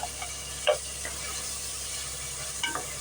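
Cinnamon and fennel fry in oil in a pan for Hyderabadi mutton biryani, making a faint, even crackle with a few light clicks and stirring taps.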